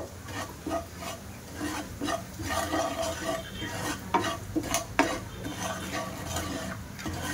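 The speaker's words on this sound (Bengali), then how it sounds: "এবার মশলাটা আমি হালকা ভাজা করে নেব" Ground spice mix frying lightly in oil in a frying pan, a soft steady sizzle under repeated scraping and stirring strokes of a utensil against the pan, with a few sharper clinks near the end.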